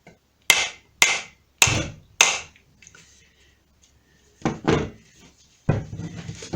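Four sharp, loud hammer blows land on a coconut in quick succession, then after a pause two more heavy strikes follow.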